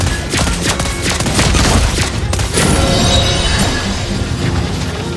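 Rapid bursts of gunfire from Lesley, a sniper hero in the Mobile Legends video game, with loud sharp shots and crashing impacts repeating steadily under dense game effects throughout.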